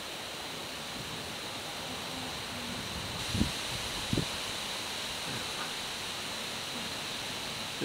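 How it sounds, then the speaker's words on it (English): Strong wind roars steadily outdoors around a boat in worsening weather, a constant hiss broken by a few dull low thumps. "The wind's really picking up."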